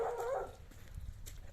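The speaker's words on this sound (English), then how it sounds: "a lot of dogs out here. A lot of dogs." A dog barks outdoors in Mexico, a quick cluster of yips and barks at the start, moderately near, then fading into low ambient background noise.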